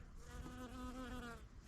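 A bee hums among borage flowers in a spring garden, a close, steady buzzing drone that wavers slightly in pitch over a brief moment.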